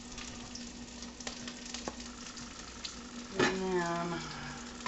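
Meatballs for a keto meatball stroganoff brown in a frying pan with a steady, close sizzle throughout, and a voice speaks briefly over it near the end.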